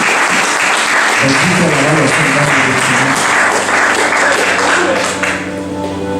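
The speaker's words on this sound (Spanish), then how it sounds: "Denle un aplauso al Señor, hermano." Loud congregation applause fills a Spanish-language church service, steady and dense throughout and easing near the end, with a voice praising God over the clapping.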